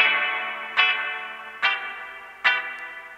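Guitar run through a Klark Teknik DN360 spring reverb, right channel only: three plucked notes or strums spaced roughly a second apart, each swelling into a long, shimmering metallic spring tail that overlaps the next, with no voices.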